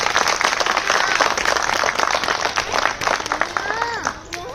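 An audience applauds at a gathering, a sustained wash of many hands clapping that stays loud throughout, then thins near the end with a few whistle-like tones.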